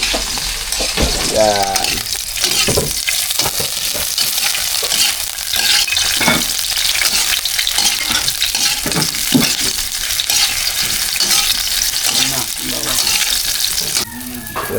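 Eggs with onions frying in a pan, with a constant close sizzle and repeated scraping stirs. A short spoken word comes in.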